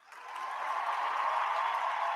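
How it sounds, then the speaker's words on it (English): A crowd at a Denver sports event gives a round of applause, a steady wash of clapping that swells in over the first moment and holds loud and even to the end, with no talking over it. "round of applause"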